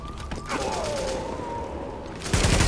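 Rapid bursts of gunfire crackle in a dense fusillade in the video game The Division, with a whistling tone sliding through the middle and heavier shots returning at the end.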